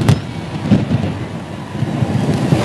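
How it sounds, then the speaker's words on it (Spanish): Thunder rolls through the sky during rainfall at an outdoor gathering, a low continuous rumble with a few brief louder cracks over steady rain and wind noise. "que está tronando el cielo"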